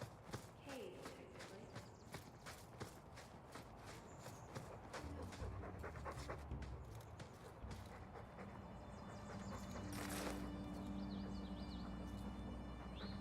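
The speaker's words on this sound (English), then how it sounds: "Found one of the doggies." Soft, rhythmic panting from a dog in the video game Dragon Age II, under game music and ambient sound with patter like footsteps.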